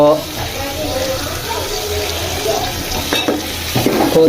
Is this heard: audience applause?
no